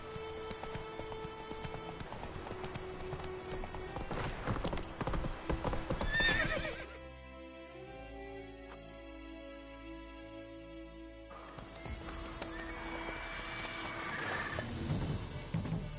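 Clip-clop of Roach the horse galloping in The Witcher 3, steady hoofbeats with a whinny, running throughout under game music and ambience, dropping to a quieter stretch midway before picking up again.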